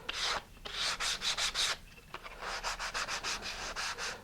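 Small model tabs having their edges rounded off with an abrasive: quick repeated rubbing and sanding strokes, close and fairly soft, in two bursts separated by a short pause.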